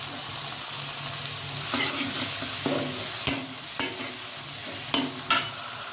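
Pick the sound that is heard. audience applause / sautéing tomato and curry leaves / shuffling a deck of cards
sautéing tomato and curry leaves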